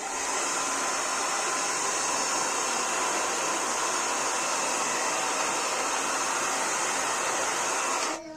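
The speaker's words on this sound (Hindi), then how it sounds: "इसलिए तो मैं अपने भी बाल सुखा लेती हूँ" A hair dryer blows steadily at close range for about eight seconds, a constant loud whooshing roar that cuts off at the very end, with no talking.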